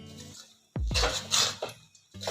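A spoon scrapes and clinks against a pan while jaggery is stirred for peanut barfi, a few sharp metallic knocks and rattles, near and fairly quiet, with a low hum between strokes.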